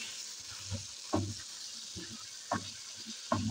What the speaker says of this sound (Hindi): इसको फ्राई करती हूँ।